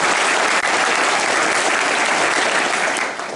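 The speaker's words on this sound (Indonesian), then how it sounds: "Tepuk tangan dulu" Soldiers at an army battalion gathering break into loud, dense applause, a sustained wash of many hands clapping at once that holds steady and tapers slightly at the end.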